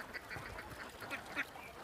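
Egg-laying ducks on a duck farm quack in faint, scattered calls, several birds overlapping at a distance with no one speaking.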